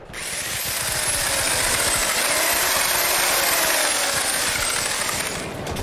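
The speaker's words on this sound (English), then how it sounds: "I think I know where I want to start, with this cement mixer" A cement mixer with a bent rod jammed in its drum and a skipping rope tied to one end runs steadily, a loud continuous mechanical churning and rattle that holds for several seconds before cutting off.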